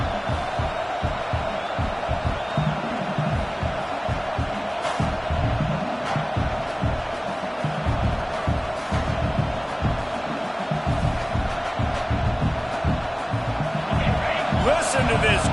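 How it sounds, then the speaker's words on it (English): A packed stadium crowd at the TCU vs Oregon college football game roars throughout as the home fans try to help their defense, a dense, sustained wall of cheering with a commentator's voice running over it. "Listen to this crowd just shaking the girders of this place, trying to help their defense"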